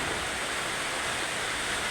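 Rainwater leaking from a roof during a heavy overnight downpour, a steady broadband wash of falling water, fairly faint and unbroken, with no talking.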